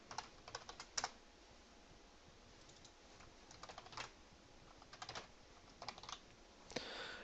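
Computer keyboard typing in quick clustered bursts of clicks separated by short pauses, close and clear with no talking.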